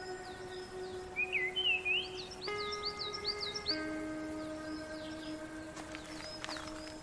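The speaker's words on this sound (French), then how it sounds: "c'est la grive de Rennes qu'on entend." A mistle thrush sings short whistled phrases at a distance over a steady mechanical hum.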